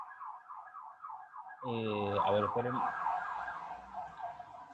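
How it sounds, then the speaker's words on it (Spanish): A wailing emergency siren drifts in from the street through an open window, rising and falling in a repeating pattern that swells loud partway through, while someone briefly speaks over it indoors. "¿Se escuchó la sirena?"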